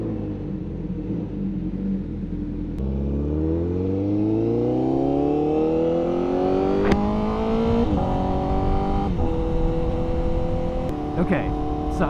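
A motorcycle engine rides along the road, revving steadily with rising and falling pitch as it works through the gears, loud and close throughout with continuous road rumble and no one speaking.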